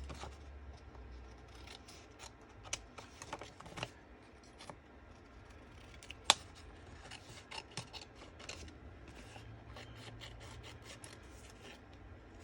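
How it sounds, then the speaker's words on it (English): Quiet, close-up scissors snip and rasp through paper in a run of irregular cuts and rustles, with no talking. "And then you want to cut it down to fit."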